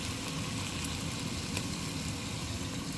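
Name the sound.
frying green and red chili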